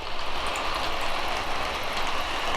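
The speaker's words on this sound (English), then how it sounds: "I think this train set as we speak is actually running quite well for sure." Lionel Polar Express O-gauge model train running on its track, giving a steady close rolling rumble and rattle of wheels and cars throughout, with no pauses or talk.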